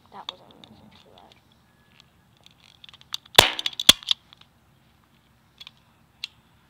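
A Chinese toy cap gun loaded with gunpowder caps fires two sharp, loud cracks in quick succession, with faint talk and small handling clicks in an otherwise quiet room.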